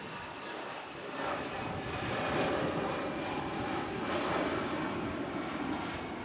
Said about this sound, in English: EasyJet A319 heading off to Venice now